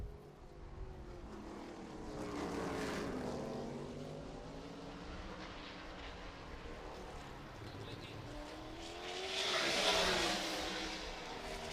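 Trans Am series race cars, including a Corvette C7-bodied car, rush down the Laguna Seca corkscrew during qualifying, engine drone swelling and fading as cars pass at a distance, with commentary voices underneath.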